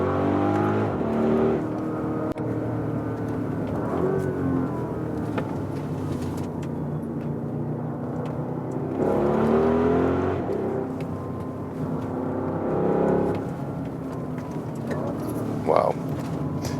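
An Audi RSQ8 SUV's engine drones steadily while it drives through open landscape. The note swells twice as the engine pulls harder, then eases back to a constant cabin hum.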